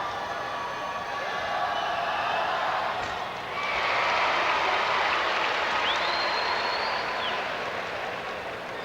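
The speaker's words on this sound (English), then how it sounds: "This is a big crowd here today at Hershey Park Arena." A big crowd fills Hershey Park Arena at a 1988 PIAA Quad A state final basketball game, its roar a steady broad wash that swells after a few seconds. A sneaker squeak and scattered shouts rise through it.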